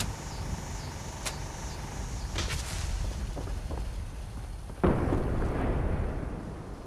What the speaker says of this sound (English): If I activate the switch now, it should send up a firework that's going to create rain